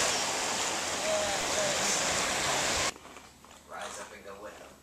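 Water from a tap runs steadily and loudly as hands are rinsed off at a camp on Kelleys Island on Lake Erie, then cuts off abruptly, leaving quieter room sound with faint movement.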